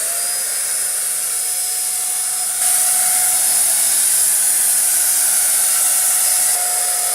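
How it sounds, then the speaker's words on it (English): A Finish Max paint sprayer coats a wooden bench with paint, giving a steady, loud airy hiss with a motor whine that swells slightly louder midway and holds evenly throughout, with no talking. "Painting with the Finish Max works best if you use long sweeping motions from side to side."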